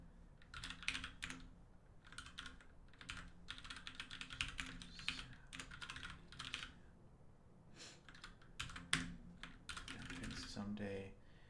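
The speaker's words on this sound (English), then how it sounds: "we just have to type in" Fast bursts of typing on a computer keyboard during coding work, clicking keystrokes coming in clustered runs with short pauses, close and fairly quiet.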